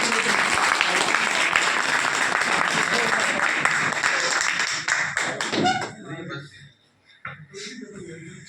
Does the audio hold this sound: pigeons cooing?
no